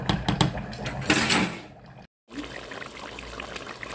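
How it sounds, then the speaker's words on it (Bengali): Water from parboiled rice, cooked about eighty percent with salt, pours out in a loud rushing stream that stops abruptly, leaving a quieter background. "এখন এটা আমি পানি ঝরিয়ে নেব"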